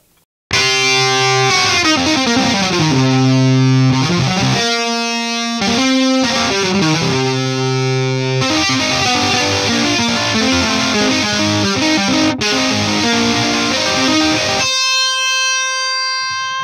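Heavily distorted high-gain stoner rock electric guitar from the Native Instruments Electric Sunburst Deluxe, playing loud sustained riffs and chords with thick low end, ending on a ringing held note.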